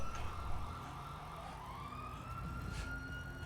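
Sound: police siren approaching in the video game GTA 5

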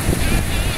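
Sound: wind

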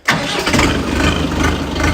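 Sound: tractor diesel engine starting

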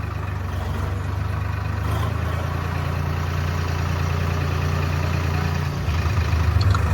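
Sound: tractor with trolley engine idling

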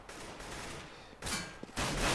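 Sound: gunfire and headshot in Counter-Strike video game (de_nuke)

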